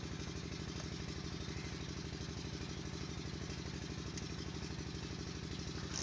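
A motorcycle engine idles just after being kick-started in a village setting, giving a steady rapid low chugging pulse that stays even and continuous, fairly quiet, with no talking.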